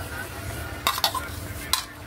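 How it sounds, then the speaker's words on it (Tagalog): White squash and eggplant being stirred in a pot with long beans, a few sharp metallic clinks and scrapes of a utensil against the pot over a faint steady background hiss. "Haluin na po natin."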